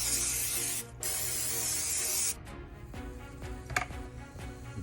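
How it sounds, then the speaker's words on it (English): Cooking spray hisses onto a waffle iron in two bursts, the first short and the second longer, followed by quieter clicks and small kitchen noises. "Cooking spray is probably super necessary."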